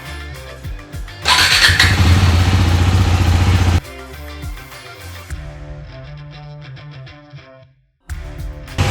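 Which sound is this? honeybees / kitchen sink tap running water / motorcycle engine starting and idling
motorcycle engine starting and idling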